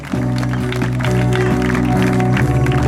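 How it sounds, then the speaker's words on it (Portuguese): At an open-air church service, a congregation claps in a steady rhythm over sustained music, loud and close, the claps recurring evenly for a few seconds. "Aplauda o Senhor."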